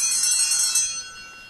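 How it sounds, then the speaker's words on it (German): A bell rings with a bright, sustained metallic tone near a kitten, loud at first and fading away over about a second and a half, with no voices. "Oh, das Katzenkind mag nicht, wie das klingelt."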